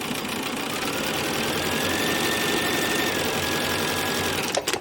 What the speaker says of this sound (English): My Bernina is in hover mode, so it's picked up its little presser foot just a little, so I can slide that under there and start sewing again